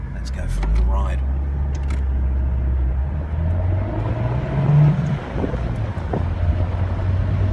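Abarth 124 Spider sports car in sport mode, engine droning low and steady from inside the cabin with a rising pitch as it pulls, wind buffeting the microphone throughout.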